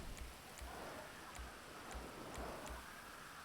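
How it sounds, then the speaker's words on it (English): Rain falling in a racing video game, a steady soft hiss with faint rhythmic low thumps beneath, quiet and continuous with no voices. "because it's raining"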